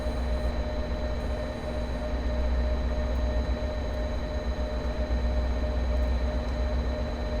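A Caltrain F40PH-2CAT diesel locomotive idles in Train Sim World, giving a steady, loud engine drone with a constant low hum and no talking.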